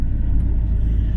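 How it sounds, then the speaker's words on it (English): A campervan drives along a dark road at night, giving a steady, close, low rumble of engine and road noise with no other sounds. "we're driving in the dark again"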